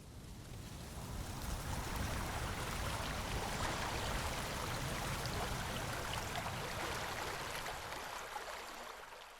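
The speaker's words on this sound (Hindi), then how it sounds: "या रिवर में पानी फ्लो होते हुए का साउंड इफेक्ट।" Water rushes continuously, like a river flowing past nearby, a dense steady wash that swells slightly and then eases toward the end.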